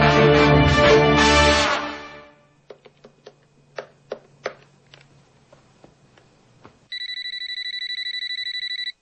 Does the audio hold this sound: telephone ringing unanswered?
yes